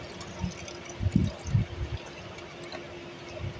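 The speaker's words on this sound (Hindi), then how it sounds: "हमें इस बोतल में थोड़ा सा पानी लेना है, आधी बोतल पानी लेना है जैसा मैं कर रही हूँ" Water is poured into a plastic bottle to half-fill it in a home garden setting, with a few short gurgling splashes close by and faint background noise.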